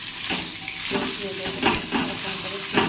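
Food seasoned with salt and turmeric is stirred in a frying pan, with a spatula scraping and clattering in repeated strokes over a constant sizzle, close and fairly loud, no talk.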